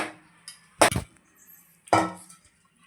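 Spinach stir-fry scraped from a pan onto a plate, giving two sharp metallic clanks of spoon on pan with a few soft scrapes between them, close and fairly quiet with no talk.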